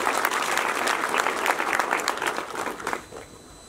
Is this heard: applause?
yes